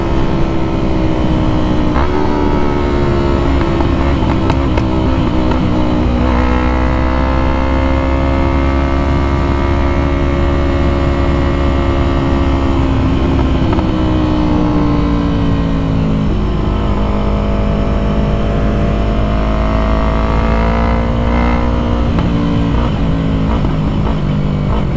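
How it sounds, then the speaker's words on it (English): Yamaha MT-03 with an Akrapovic full exhaust drones steadily at highway speed, its engine note rising and falling with throttle changes under heavy wind noise, loud and continuous; distinct backfire pops are hard to pick out. "That backfire is insane."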